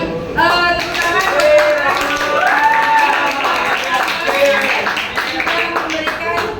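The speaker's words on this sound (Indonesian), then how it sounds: "Kita berikan tepuk tangan." A classroom group claps hands together in a short burst of applause, with voices and cheerful chatter mixed in.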